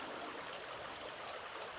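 A river meanders past, its steady, soft flowing rush holding even and fairly faint throughout with no voices.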